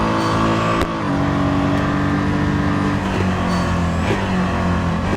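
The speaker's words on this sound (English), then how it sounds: "I really like the sound of the engine in this one" Pace car engine on the Seussical circuit in a racing video game drones continuously and loudly, a steady harmonic engine tone with small shifts in pitch, with no talk over it.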